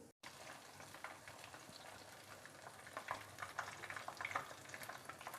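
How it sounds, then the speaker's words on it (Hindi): Marinated fish frying in a pan over a medium flame, giving a steady, close sizzle with crackling pops that grow busier toward the end, heard on its own without talk. "ये हमारी दरमियानी आंच पे फ्राई हो रही है"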